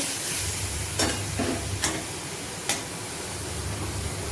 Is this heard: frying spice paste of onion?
yes